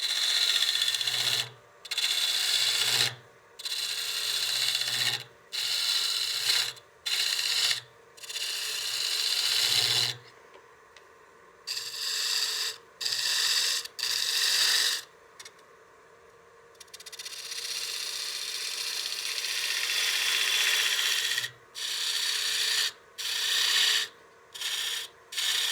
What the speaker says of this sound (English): I'm going to switch to a smaller 3/8 gouge and just step that down a little bit.